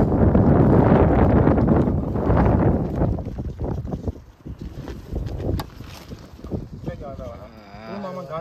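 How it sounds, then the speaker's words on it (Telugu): Strong, gusty wind roars across the microphone beside a lake during fishing, loudest in the first few seconds and then easing into uneven buffeting, with voices talking underneath. "మామ గాలి ఎట్లా వస్తుందో, సుడిగాలు వస్తున్నాయి ఈ మధ్య."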